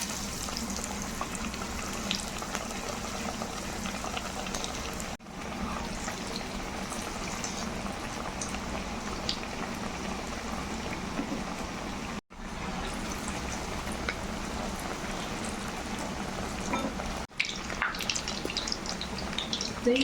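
Parippu vada, flattened dal fritters, frying in boiling hot oil, a steady close bubbling sizzle that runs on without pause, interrupted only by a few brief dropouts and carrying no voices.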